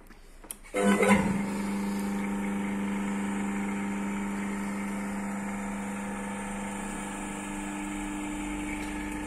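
An electric motor ramping up on a soft starter: a brief click, then a steady mechanical hum with tonal whine settles in and holds evenly at moderate level, with no voices.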